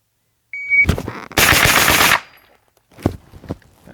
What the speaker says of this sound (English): let's try to relax and put it in the center and shoot fast